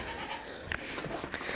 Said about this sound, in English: Thank you, Tilly, for not killing my baby goat.